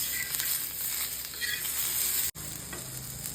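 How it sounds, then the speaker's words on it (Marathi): Coconut, onion, tomato, garlic and ginger roast in a pan for shev bhaji, giving a steady close sizzle with a brief cut near the end before the frying hiss resumes. "आता टोमॅटो घालून घेऊयात, लसूण घालून घेऊयात आणि आलं, हे सगळं एकत्र भाजून घेऊयात।"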